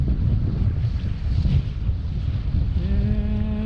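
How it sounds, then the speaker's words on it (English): Hard gusty wind roars and buffets loudly outdoors over rough grass, with a brief rising whine near the end. "Yeah, the wind's coming. It's blowing hard right here"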